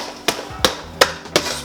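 Digestive biscuits being crushed in a bowl for a baked cheesecake base: four sharp, evenly spaced thumping impacts, close and fairly loud, with quiet pauses between them and no talking.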